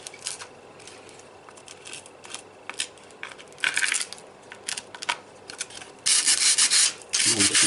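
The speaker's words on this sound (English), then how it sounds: "Sandpaper on that." Sandpaper rubbed over a polystyrene letter cut with a hot wand tool, close scratchy sanding strokes in irregular bursts, growing into loud sustained rasping toward the end, with no speech.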